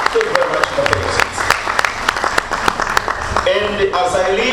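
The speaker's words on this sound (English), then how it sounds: "You can give them a round of applause for that." Conference audience at a panel discussion clapping, a scatter of sharp hand claps spread through the stretch alongside someone talking, moderately loud and close.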